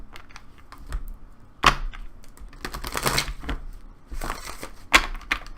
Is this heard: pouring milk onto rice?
no